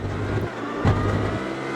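A GT3 race car engine in the Automobilista 2 driving game revs steadily under acceleration, with a gear change partway through and the tone shifting between two pitches, loud and close.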